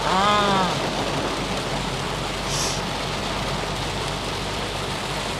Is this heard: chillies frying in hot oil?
no